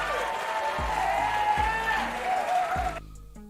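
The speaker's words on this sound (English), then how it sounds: "Another round of applause for my man, Gator Aaron." Applause from a livestream audience rises briefly and steadily for about three seconds, fairly loud and close, then cuts off abruptly into near quiet.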